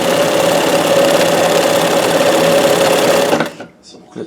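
Sewing machine, Janome 672 or Singer, stitching fast and loud with a steady mechanical whir and buzz for about three seconds, then stopping abruptly, leaving quiet handling noise.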